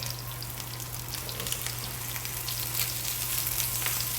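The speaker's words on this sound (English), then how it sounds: "So now I'm going to flip it over and let the other side cook." Red snapper fillets frying in a pan give a steady, close sizzle with fine crackling spatter and a low constant hum underneath, no talking.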